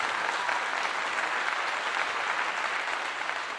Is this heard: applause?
yes